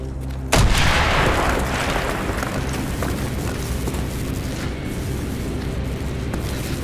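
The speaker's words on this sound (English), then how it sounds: "Mason, blow a hole in that fucking wall." In a Call of Duty: Black Ops campaign mission, a C4 charge blows a hole through a wall. One loud, close blast hits sharply and then rolls into a long, dense rumble of debris and noise that lasts several seconds.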